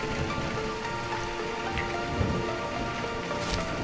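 Steady rain pours down in a Hindi village scene, a dense, even patter on surfaces that carries on without pause from start to finish.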